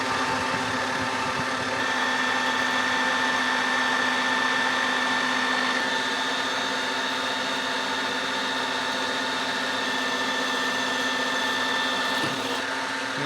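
A line boring machine makes a machining cut on an arbor press part, a steady, close, high-pitched whirring hum that holds evenly throughout with no speech.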